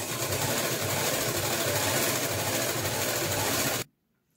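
A sewing machine runs steadily while stitching a party frock, a continuous fast mechanical whir held at even loudness for nearly four seconds before stopping abruptly.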